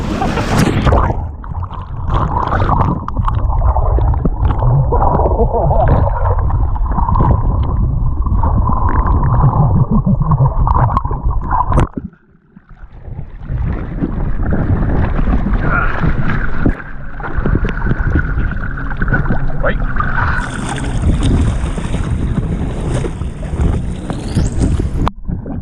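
A 2018 Sea-Doo personal watercraft running on open water, a loud continuous engine drone mixed with heavy wind buffeting and splashing, with a brief drop around the midpoint before the roar returns and a high whine near the end.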